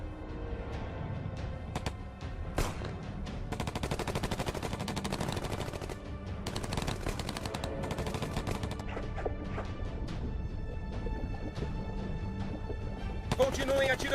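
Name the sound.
gunfire shooting at ships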